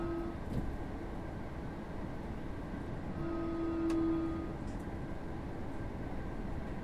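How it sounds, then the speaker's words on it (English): Electrostar electric multiple unit train running at a steady speed in the Train Sim World 6 game on the East Coastway line, a continuous rumbling drone with faint tonal whines and a brief horn-like tone midway, no talk. "I'm going to keep the train running at 40 as there's not really much point in speeding up again."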